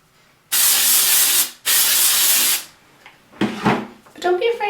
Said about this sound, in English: don't be afraid to kind of put a decent amount of this texture spray in there